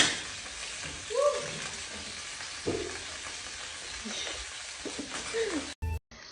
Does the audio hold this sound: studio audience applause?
no